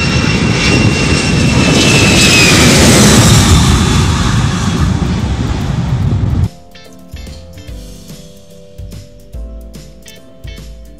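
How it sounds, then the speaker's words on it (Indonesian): A Sriwijaya Air airplane's engines roar loudly and steadily, a broad sustained rush that cuts off abruptly partway through, giving way to quieter, unrelated sounds. "Pesawat terbang Sriwijaya Air berwarna putih,"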